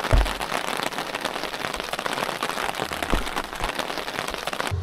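Heavy raindrops drumming on a camping awning, a dense close patter with occasional louder drops standing out, no voices.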